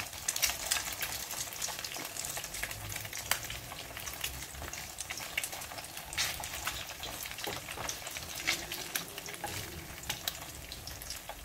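Eggplant slices fry in a hot pan, giving a steady crackling sizzle with scattered pops and occasional stirring or turning, close and fairly quiet with no talking.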